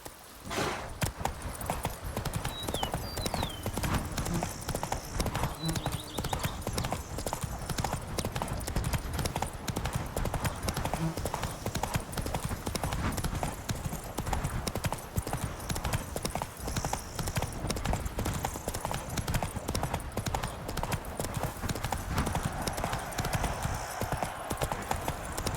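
Horse hooves clip-clop in a steady, continuous rhythm as a horse is ridden in The Witcher 3: Wild Hunt, with faint game ambience underneath throughout.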